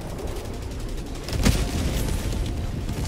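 An Eagle airstrike in the Helldivers 2 video game detonates in one sharp booming blast, followed by rumbling battle noise that continues steadily after the hit.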